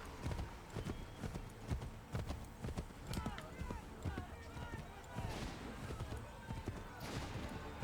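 Horse hooves clip-clop steadily at a gallop along a road in Assassin's Creed III, close and continuous, with someone talking over them.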